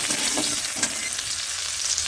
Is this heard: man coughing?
no